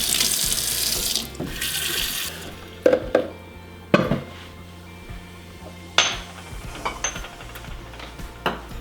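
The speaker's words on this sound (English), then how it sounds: "I'm gonna add to my blender 4 cups of water" Water gushes into a blender in two short pours at the start, followed by scattered clinks and knocks of kitchenware in a quiet room.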